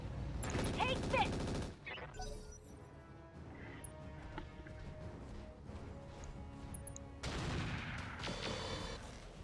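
Medium rifle and machine guns firing in the Roguetech mech game, with loud bursts of rapid fire at the start and end and scattered impacts and crashes in between.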